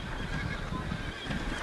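A wild brumby, a white mare in Australia's Tinderry Range, whinnies in a short, fairly close call over a rough outdoor background.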